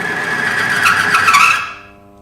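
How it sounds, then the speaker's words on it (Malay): An oil friction test machine grinds under pressure with black engine oil, a harsh, high screeching friction noise that rises briefly and then fades out over about two seconds. "Bunyi geseran tu kuat."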